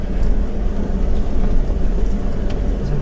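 A 2015 Ford F-150 FX4 pickup drives through a river crossing off road, a loud steady rumble of engine and rushing water with no talk.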